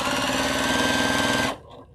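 A sewing machine runs fast through quilt pieces, a loud rapid even stitching rattle for about a second and a half that then stops abruptly, leaving faint mechanical noise.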